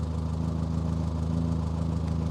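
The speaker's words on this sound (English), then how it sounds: "engine works, as you can hear" A Morris Minor car engine idles close by, a steady, even low throb with a regular pulsing beat and no other sounds over it.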